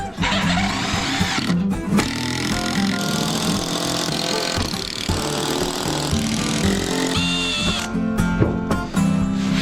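Power drill or screwdriver driving screws to fix a window frame into a stone wall, whirring motor bursts that rise and stop several times, loud and close, with brief voices in between.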